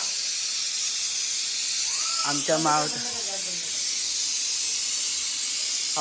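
Pressure cooker vents steam in a steady, loud hiss that runs through the whole stretch while a voice talks briefly in the middle.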